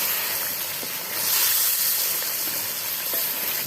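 Chicken sizzling and hissing as it is roasted (bhuna) in a degh-style pot for shahi korma, a continuous bright frying hiss that swells slightly midway, with no talking.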